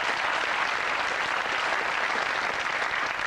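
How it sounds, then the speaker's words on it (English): Studio audience at a 1989 UK TV game show applauding in a steady, dense round of clapping that fills the room without pause. "I think that deserves a round of applause in itself"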